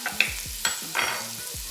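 Onions sauté in a pan, a steady soft sizzle broken by several scraping stirs and light utensil clicks, close and alone without any voice.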